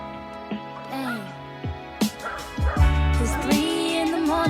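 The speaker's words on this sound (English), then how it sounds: "It's 3 in the morning and I hear my dogs barking." Dogs bark and yip in short, irregular bursts over a musical backing, growing busier and louder toward the end.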